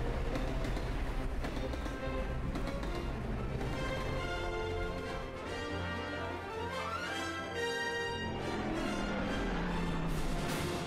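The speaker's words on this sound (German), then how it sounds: "Der Zug ist cool." Train in the Lego Indiana Jones 2 video game, a loud, steady rolling rumble with rail clatter and layered game music or effects running throughout, no talking.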